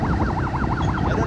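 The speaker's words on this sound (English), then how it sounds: "You can hear that siren." An ambulance siren wails in a rapid, repeating up-and-down pattern, loud and continuous throughout.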